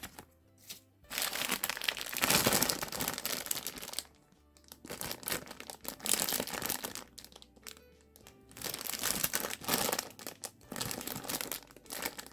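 Plastic packaging crinkles and rustles in repeated bursts as small Re-ment Forest Cake Shop miniature toy pieces are unwrapped, loud and close with brief quiet pauses between handlings.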